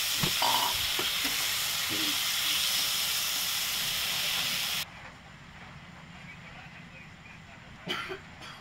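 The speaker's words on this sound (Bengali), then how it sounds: "মুগ ডালটা অল্প ভাজা হয়ে গেছে" Mung dal fries with bay leaf in a hot pan while being stirred, giving a loud, steady sizzle and hiss with scraping strokes that cuts off abruptly, leaving quiet background and a brief clatter.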